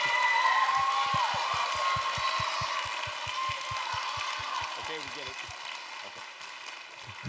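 Children at an elementary school band and choir concert applauding and cheering for student Jackson Jimenez, a steady clapping roar that fades gradually, with rhythmic thumps and brief voices underneath.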